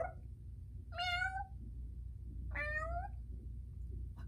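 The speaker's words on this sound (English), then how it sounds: "with a meow meow here and a meow meow there" A cat gives two clear, rising-then-falling meows about a second and a half apart, close and distinct over a low steady background hum.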